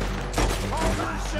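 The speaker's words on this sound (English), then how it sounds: "Oh, wait, I guess I can shoot him." A gunshot burst from Red Dead Redemption 2, loud and dense within a brief, noisy stretch of game sound.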